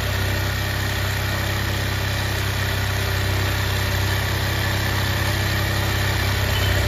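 A motorbike engine holding steady at about 3840 RPM, a loud, constant mechanical drone with no change in pitch and no speech.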